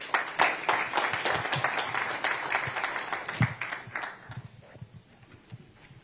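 Applause from attendees at a government maritime workshop in Lagos, many hands clapping in a hall, strong at first and then thinning out to sparse claps and faint low background sounds.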